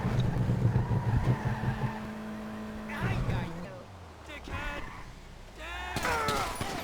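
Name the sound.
Panto car driving and skidding in video game GTA 5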